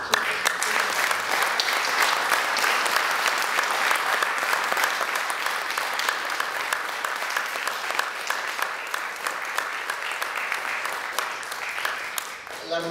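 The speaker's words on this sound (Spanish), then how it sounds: "pues yo pido un aplauso para..." A crowd at a ceremony honouring César Valer breaks into sustained, dense applause, loud and even, many hands clapping continuously before fading slightly at the end.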